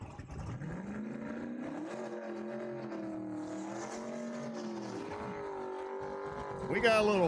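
A Chevrolet Camaro and a Ford Mustang in a heads-up small-tire drag race at a dragway, engines droning and shifting pitch at a distance under a track announcer's steady commentary, swelling louder at the very end.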